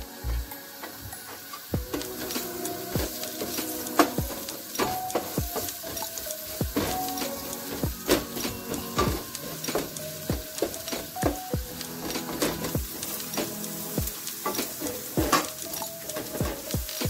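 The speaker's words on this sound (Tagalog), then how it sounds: "Magisa na tayo ng bawang." Garlic sizzles steadily in a pan while being cooked for Ilocano igado, with repeated ticking clinks from a utensil stirring against the pan throughout and no talking.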